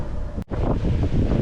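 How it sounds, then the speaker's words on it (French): Wind rushes steadily against the microphone while sailing the Liberty on open sea at about 11.5 knots of wind, a loud continuous roar with one brief dropout, no talk. "Là, il y a un peu plus de vent, on est en 11 nœuds 5 de vent."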